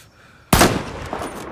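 A single loud, sharp sniper rifle shot in Battlefield 4, a sudden close crack followed by a short rumbling tail, after a near-silent moment.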